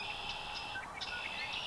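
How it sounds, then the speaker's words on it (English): Faint high-pitched bird chirps and warbling trills, several overlapping calls heard from a distance over a soft garden background. "Birds."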